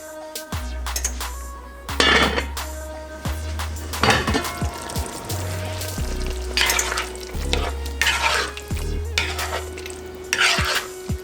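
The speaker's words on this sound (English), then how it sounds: "add in about a half a cup of chicken broth. Give everything a nice stir" Jamaican tin mackerel simmers with chicken broth in a pan, sizzling while a utensil stirs it in repeated scrapes and knocks against the metal, close and loud, with no speech.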